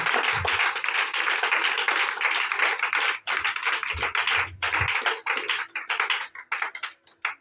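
French-speaking church congregation applauding and cheering, a dense sustained wash of clapping that thins out toward the end into scattered claps.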